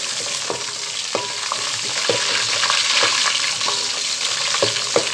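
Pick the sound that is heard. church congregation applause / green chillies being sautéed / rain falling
green chillies being sautéed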